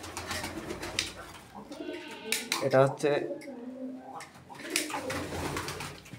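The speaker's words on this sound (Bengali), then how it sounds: "আমার ছেলের কবুতরের খামার" Pigeons coo softly at a small home pigeon farm in Bangladesh, low throaty calls in a brief cluster, partly under someone talking, with faint clinking of pots or metal nearby.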